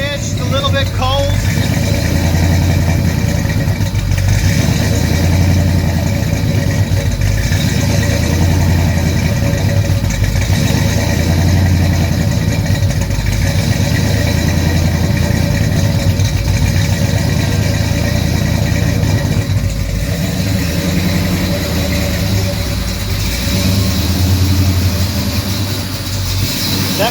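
Fuel-injected engine in a 1969 Pontiac GTO idling while still cold, a steady low rumble with slight uneven pulsing that runs throughout at a constant loud level, with a voice speaking over it.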